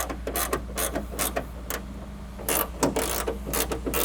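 Ratchet wrench loosening the small 7mm bolts along the top of a 1995–99 OBS truck door while fitting door lock sliders, a quick series of close, dry clicking bursts with short pauses between strokes.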